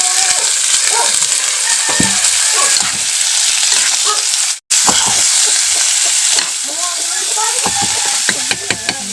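Garlic browning in a frying pan hisses with a loud, continuous sizzle, broken by brief stirring scrapes and one short gap.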